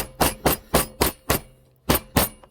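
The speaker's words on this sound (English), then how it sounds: "And a little hammer action." Sharp metallic hammer strikes ring out in a steady rhythm as a pin is driven into a stove cover, five evenly spaced blows, a brief pause, then two more, close and loud.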